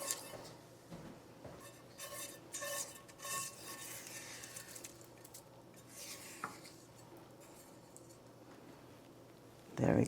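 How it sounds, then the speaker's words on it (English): A spoon stirs tomatoes, garlic and parsley together in a crock pot for a pasta sauce, giving intermittent scrapes and clinks against the pot that end in a louder clatter. "Mix that all together"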